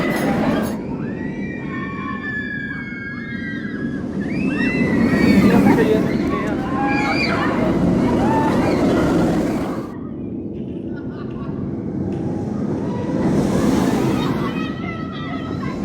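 Fønix roller coaster running at Fårup Sommerland, ridden in the back row: a steady loud rumble of the train on the track with whooshing surges and high squeals, voices and screams mixed in throughout.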